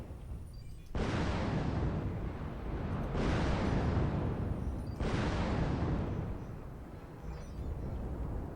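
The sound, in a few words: LRM missile explosions in MechWarrior Online video game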